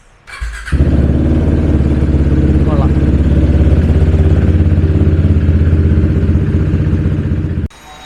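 A KTM RC race motorcycle fitted with a BS3 Duke 390 engine cranks and catches, then settles into a loud, steady, close-up idle for several seconds before cutting off abruptly.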